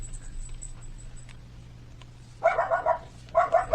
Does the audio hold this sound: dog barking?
yes